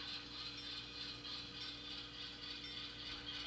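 An ESU DCC sound decoder in an N scale ScaleTrains C44-9W diesel locomotive in Santa Fe paint starts up at low volume, giving a faint, steady mechanical rattle and hum with no talking.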